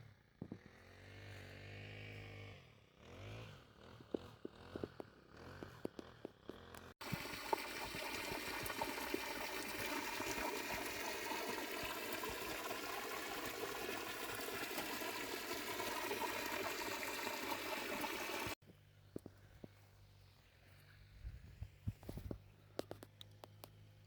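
Irrigation water flowing into a wheat field, a steady rushing gush under a humming motor drone that runs for about ten seconds in the middle, with quieter, scattered sounds before and after.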